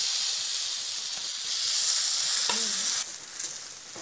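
Bread halwa mixture meets a hot non-stick pan with a loud steady sizzle that swells briefly, then settles into a softer hiss, with a faint scrape of stirring.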